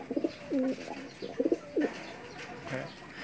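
Several soft, throaty coos from racing pigeons in short bursts, close by, with faint background noise between them.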